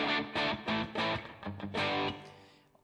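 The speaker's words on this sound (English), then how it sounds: "Kind of like an overdrive type sound, almost, you know, not too dissimilar from the DoD 250." Electric guitar played through a distortion pedal with a tone close to overdrive, like a DoD 250, as several loud strummed chords ring out in short bursts, then decay over the last second.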